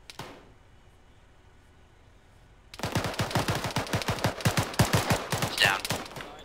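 Rapid automatic gunfire in the military shooter game Arma 3 bursts in after a quiet stretch, a loud, close, dense string of shots that keeps rattling without pause.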